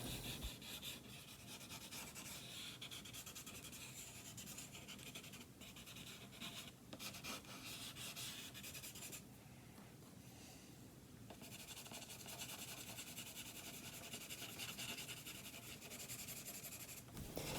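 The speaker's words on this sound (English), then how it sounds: "Using a pencil stump here to kind of blend in some of the charcoal I've started." A pencil stump rubs and blends charcoal on paper in a continuous soft, dry scraping, steady and close, with no voices.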